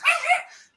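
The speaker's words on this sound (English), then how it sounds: "Sorry about the dog." A dog indoors gives a single short, sharp bark with a yippy edge, close by and fading quickly in under a second.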